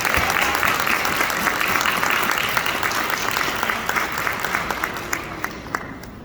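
An audience at an anniversary event for the Broadcasting Commission of Jamaica applauds in sustained, dense clapping that gradually thins and fades, with a few louder individual claps near the end.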